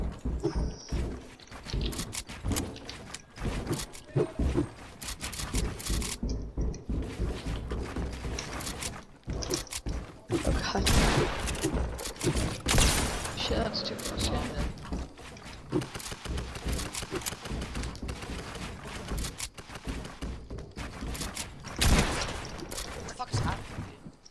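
Video game gunfire in Fortnite, including SMG shots, bursts in dense, clattering volleys through most of the stretch amid mechanical game effects, with a player talking over much of it.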